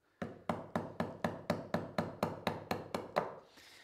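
A chisel is tapped into wood to cut a tenon at a workbench: about eleven evenly spaced, sharp percussive knocks in a steady rhythm, close and fairly loud, then a brief scrape at the end.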